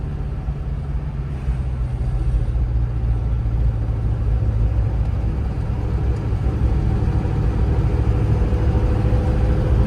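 A 1938 Chevrolet Master Town Sedan hot rod on the move, its engine a loud, steady low rumble that holds constant throughout with no one talking.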